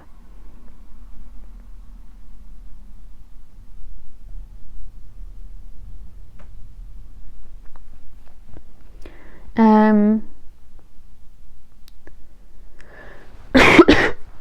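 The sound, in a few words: cough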